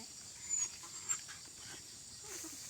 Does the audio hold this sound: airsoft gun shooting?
no